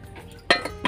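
A metal lid is set onto a cooking pot of water, giving two sharp clinks about a third of a second apart over a faint background.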